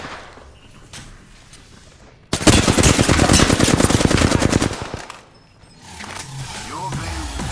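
Rapid automatic gunfire bursts loudly in a video game for a few seconds, a dense stream of shots, then fades into quieter mechanical sounds and game noises.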